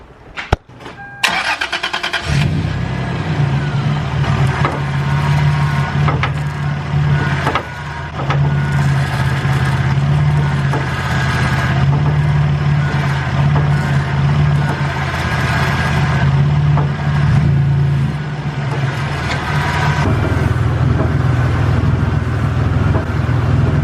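A truck with worn lower control arm bushings and power steering rack bushings starts up and runs with a loud low engine drone, steady throughout, with faint creaks and knocks while the steering is turned.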